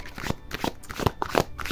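Playing cards shuffled for a Gemini tarot reading, a quick run of soft riffling flicks and crisp paper snaps, close and quiet, lasting under two seconds.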